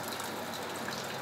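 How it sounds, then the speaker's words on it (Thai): Steady, dense rush of water filling the whole clip, a continuous broadband roar of the large Huai Chan waterfall in Sisaket, Thailand, heard up close, with no voices. "นั่นคือน้ำตกห้วยจันนะครับ เป็นน้ำตกที่มีขนาดใหญ่มาก"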